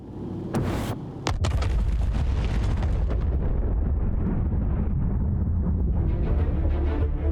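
Unguided bombs dropped from a ship in the Star Citizen space game explode in sharp cracking blasts, then give way to a heavy, sustained low rumbling roar that stays loud and near throughout.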